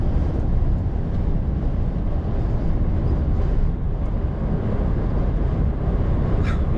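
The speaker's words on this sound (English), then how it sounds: "if you can hear any wind blowing, that's the wind battering outside." Strong storm winds of over 40mph batter the outside of a vehicle during Storm Eowyn, producing a constant, heavy low roar and rumble with gusting texture and no talk over it.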